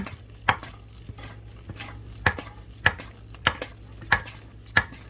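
Spoon scraping the bottom and sides of a bowl while stirring thick biscuit dough made with fresh-milled flour, giving sharp regular knocks about every half second over a soft dull background.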